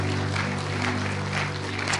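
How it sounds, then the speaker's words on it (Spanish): A church congregation applauds in praise during a Spanish-language sermon, a steady wash of many hands clapping over a constant low hum, with no one speaking. "Dale un aplauso de alabanza a nuestro Señor"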